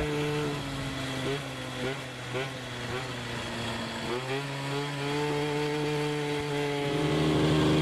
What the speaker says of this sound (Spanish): En este video se nota cómo suena la caja, ya que tiene los rodillos originales y el variador se acciona sin subir muchas RPM